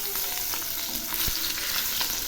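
Katla fish pieces fry in oil for doi katla, a close, dense sizzle with bursts of crackling and a brief stir, heard alone for a couple of seconds.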